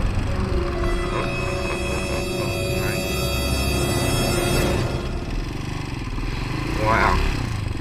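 A Hawk 250 dual sport motorcycle rides along, its engine droning steadily and loud throughout with wind and mechanical rumble, pitch shifting slightly as it goes.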